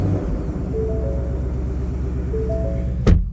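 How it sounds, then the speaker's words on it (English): A 2020 5-liter car with a 10-speed gearbox idles and revs in a steady, loud pulsing engine rumble with brief rising tones, ending in a sharp short knock. "That noise is coming from a 2020 10-speed 5-liter."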